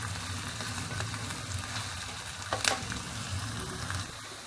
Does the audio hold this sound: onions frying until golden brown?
yes